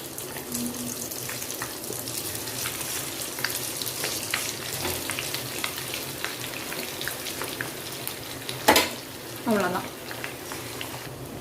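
A second batch of potatoes for chilli roast sizzles steadily in hot oil, a dense continuous crackle with scattered pops, and a louder splash and hiss near the end as the pieces go in or are stirred.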